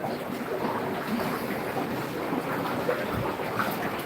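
Old water pours into a stingray tank in a continuous soft rushing splash that holds steady throughout, with no voices.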